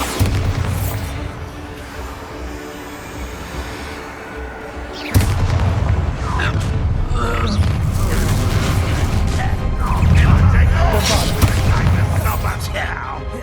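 A Bombarda spell explodes in a Hogwarts Legacy fight. The blast comes suddenly with a low boom, then rumbling combat noise continues under game voices.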